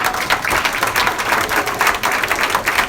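A church congregation applauds at a pastor appreciation service, a steady, dense wash of many hands clapping throughout, loud and full with no talk over it.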